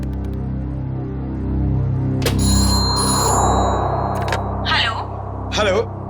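A telephone rings as a call is placed, with ringing tones standing out above a steady background hum, followed by brief bursts of speech near the end.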